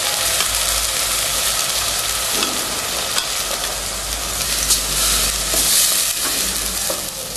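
Sliced onions and mint paste sauté in a pan for mint rice, giving a loud, steady, dense sizzle with a few soft stirring scrapes throughout and no voices.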